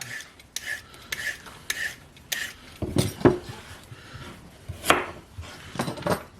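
A peeled carrot sliced thin with a knife on a cutting board, a series of crisp, close chopping knocks at irregular intervals, with a few louder board thuds among them.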